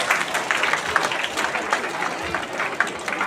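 Applause from a school audience after a Teachers Day performance, dense crowd clapping with cheering mixed in throughout the short stretch, steady and fairly loud.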